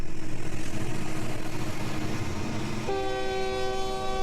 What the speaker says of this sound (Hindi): उसी समय दूर से ट्रेन की सीटी सुनाई दी।